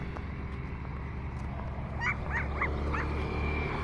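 A dog gives a short run of four or five yips and barks at moderate distance over a constant low rumbling background, with no speech.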